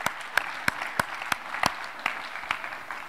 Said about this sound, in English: why don't we have a round of applause for all of the course staff this semester